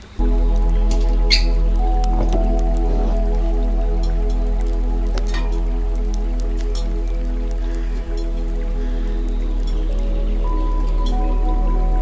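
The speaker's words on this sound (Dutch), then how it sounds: "doe de gember en de citroen in de blender" A blender whirs steadily and loudly as it blends ginger and lemon, with a constant motor hum and a brief dip in level partway through. No one talks.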